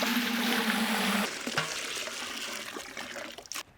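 Water pours in a steady rush for about a second while cooking chilli garlic chicken spaghetti, then breaks into lighter trickles and splashes that fade away.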